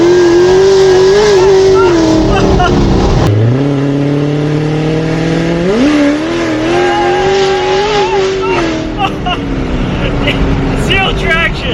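A cammed Z06 Corvette at full throttle, its loud rumbling engine climbing and dropping in pitch through stuttering surges as the wheels hop, with a person's voice talking over it.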